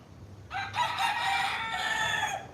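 A rooster on an island crows once, a single drawn-out cock-a-doodle-doo that rises sharply and holds for about two seconds, clear and fairly near over quiet background.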